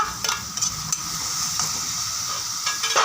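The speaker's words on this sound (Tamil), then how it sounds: "அதுக்கடுத்து இஞ்சி பூண்டு பேஸ்ட் போட்டுக்கிறாங்க. அதுக்கடுத்து பச்சை மிளகா." Ginger garlic paste and green chili frying in a pan for a fish eggs dish, a steady close sizzle with occasional stirring scrapes and clinks.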